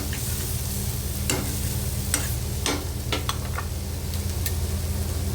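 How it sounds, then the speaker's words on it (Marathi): Green garlic and herb masala paste sautéing in a pan for a dry prawn, brinjal and potato bhaji, a steady low sizzle with occasional sharp clicks of a spoon stirring against the pan, with no speech. "आता हिरवं वाटण घालूया आणि हे वाटणसुद्धा आपल्याला छान असं परतून घ्यायचं आहे चांगलं"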